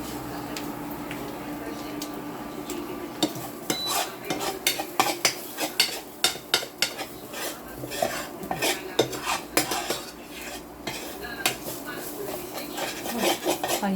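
Food sautéing in oil in a home kitchen, a steady soft sizzle under repeated scraping and clinking of a utensil against the pan, with people talking now and then.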